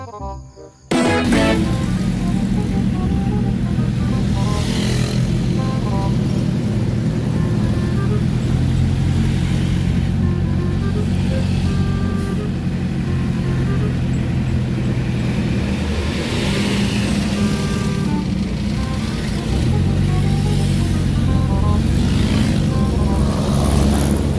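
Trucks idling and rumbling in a junkshop delivery yard, a continuous heavy engine drone close by with shifting revs and occasional clanks over about twenty-four seconds.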